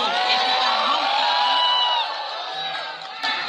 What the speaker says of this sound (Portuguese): Lula ladrão vaiado em Paris.